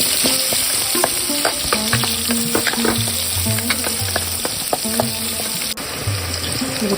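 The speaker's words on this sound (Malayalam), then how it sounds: "നെയ്യ് ചൂടാകുമ്പോൾ നമുക്ക് മസാല ഇട്ട് കൊടുക്കാം. സവാള ഇട്ടു." Masala and onion sizzle in hot ghee in a pan, a steady crackling fry with intermittent stirring and clinks, close and continuous without any talk.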